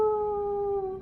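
A single wolf howl sound effect plays during a tabletop game session, a loud, sustained, steady tone with harmonics. It lasts about a second, then trails off abruptly, heard alone without talk.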